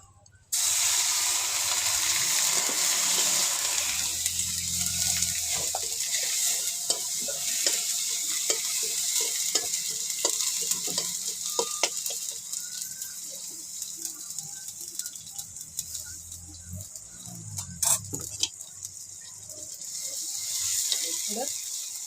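Tomatoes tipped into a hot pan and stirred as they fry for a village-style curry, with a steady close sizzle and repeated scraping strokes of the spoon running throughout.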